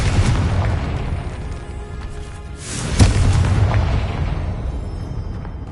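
The Confringo spell in Hogwarts Legacy lets off a loud booming explosion that builds into a heavy rumble, with a sharp burst near the middle and a sustained roar that slowly fades.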